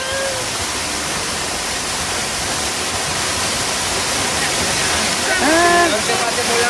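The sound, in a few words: waterfall in canyon near Granada, Spain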